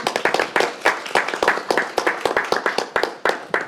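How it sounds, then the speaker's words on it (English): Audience applause for a panel at a government procurement event, close and loud with many distinct sharp claps in a fairly quick, uneven rhythm continuing steadily throughout. "let them give a round of applause one more time"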